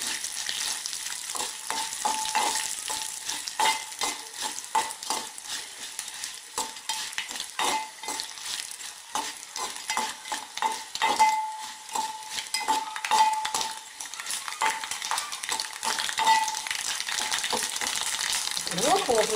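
Mustard seeds and cumin crackle and sizzle in hot oil for a tempering, a continuous close frying hiss scattered with sharp pops and occasional spoon scrapes against the pan.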